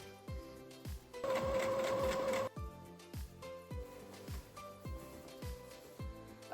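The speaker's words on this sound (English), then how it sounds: "I'm gonna sew them together" A sewing machine stitches two skirt pieces together with a rhythmic, close mechanical clatter. A fast continuous run is followed by a series of short, evenly spaced stitching bursts, with no talking.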